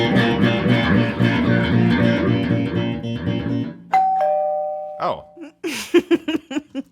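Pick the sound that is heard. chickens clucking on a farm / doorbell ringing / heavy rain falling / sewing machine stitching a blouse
doorbell ringing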